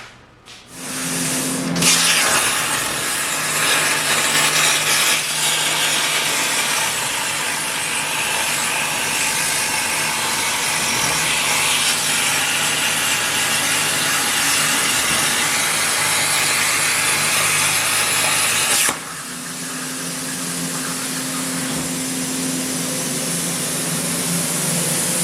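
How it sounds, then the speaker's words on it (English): Metal plates for a 1937 Ford front spring are cut with a loud, continuous hissing, grinding roar that runs for most of the stretch, then drops to a quieter whir near the end. "I'm gonna cut the plates for the front spring."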